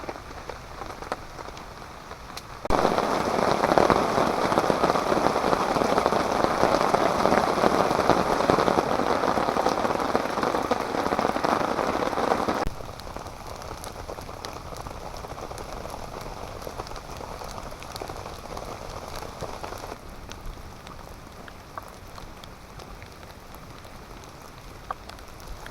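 Rain drips and patters steadily on a camping tarp at a remote wilderness campsite. A dense, louder burst of drumming lasts about ten seconds before the sound eases back to a softer, continuous patter.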